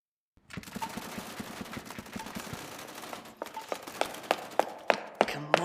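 Soldiers in a video game open fire, a rapid, steady stream of gunshots that grows louder and punchier toward the end, with sharp individual cracks standing out near the close.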